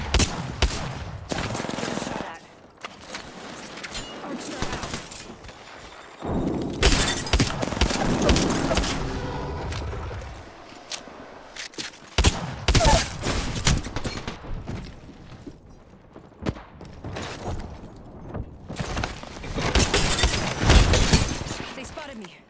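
Bursts of Flatline rifle fire in Valorant crackle loudly in rapid strings, with pauses between volleys and occasional shattering impacts, while a player talks over the shooting.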